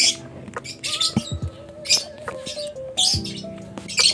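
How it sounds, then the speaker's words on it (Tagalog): A hen gives short, sharp squawks and chirpy calls close by, in irregular bursts with brief pauses between them. "Medyo aggressive yan kasi hen yan."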